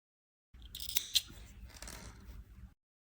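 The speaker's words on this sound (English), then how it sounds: "Cut the yarn." Scissors snip through yarn while finishing a crocheted dragon toy, giving a couple of sharp close cuts in a short, quiet burst.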